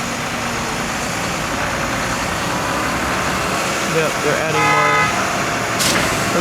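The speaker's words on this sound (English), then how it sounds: "the honking definitely is that truck" A truck horn honks in a short burst over engine rumble and outdoor noise at a church basement construction site, with people talking nearby.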